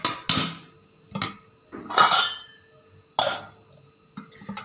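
A lid set on a bowl of semolina (rava) left to soak. Several short, close clinks and clattering knocks come in an uneven rhythm, separated by silence, with no speech.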